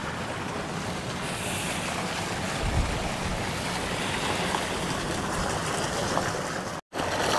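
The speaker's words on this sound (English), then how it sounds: "We have the gorillas with the mouthpieces spewing out the water" Gorilla statue fountains spew water into a hotel pool in Kuta, Bali, making a steady, unbroken rush of splashing water that runs close and fairly loud the whole time, with no voices.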